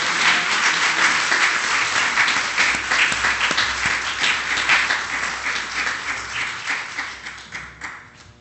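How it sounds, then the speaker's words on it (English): A church congregation gives a sustained round of applause, steady and fairly close, a full wash of clapping that holds for around eight seconds and then gently tapers off. "So let's give a round of applause"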